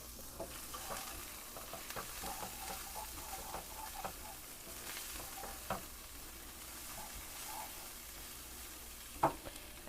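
Chili powder being stirred into food in a pan: a continuous soft sizzle with repeated scraping strokes of a utensil and a few light taps, ending with a sharper knock against the pan.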